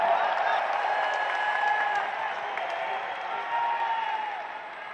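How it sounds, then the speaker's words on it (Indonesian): A crowd at an Indonesian political rally with Anies Baswedan applauds as a party chairman is introduced. The clapping is thick and sustained for about five seconds, with a few faint voices rising through it. "Beri tepuk tangan untuk Mas AHY."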